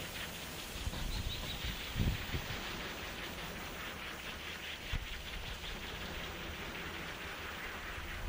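Wind gusts steadily around a DIY 24-volt e-bike hub motor wind generator, a broad, unbroken rushing roar that swells slightly and carries a couple of brief thumps, with no voices.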